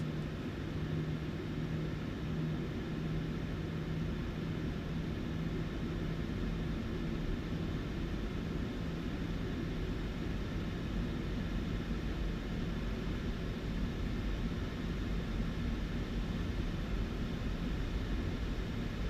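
A PMDG 737-800 in MSFS 2024 taxiing under light engine thrust, a steady low jet rumble and whine with a constant hum, unchanging and uninterrupted for the whole stretch, with no talk.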